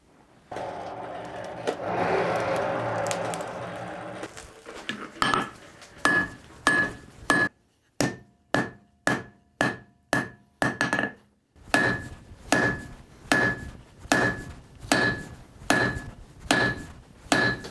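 A hammer forges a billet of steel and wrought iron for a folding knife blade, striking in a steady run of loud, ringing metallic blows after an opening stretch of noisy hiss, close and without talk.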